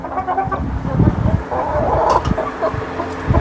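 Several chickens and a rooster cluck and murmur continuously nearby on a small farm, with overlapping chatter and occasional louder squawks.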